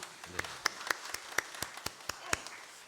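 A church congregation at a Friday evening prayer service gives scattered, faint handclaps, roughly a dozen distinct sharp claps spread unevenly rather than a dense ovation.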